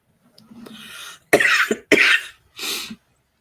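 A few close, sharp coughs, two quick ones in a row followed by a softer third, with a breath before them.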